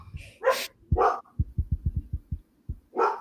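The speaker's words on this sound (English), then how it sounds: "He's just not a good boy when he is barking at nothing." Dog barking indoors: a few loud sharp barks spaced apart, with a rapid run of soft low thumps between them, fairly close.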